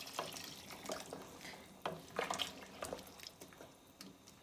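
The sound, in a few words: pouring hot water into soup pot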